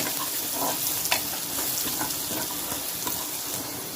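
Garlic cloves frying in oil in a pan while being stirred, a continuous close sizzle with scraping stir sounds and small clatters, no speech.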